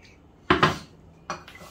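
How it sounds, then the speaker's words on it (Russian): Utensil scrapes and clinks against a bowl while salt seasoning is stirred in, two short bursts of near, clattering strokes separated by a brief quiet. "Перемешиваю все хорошенечко."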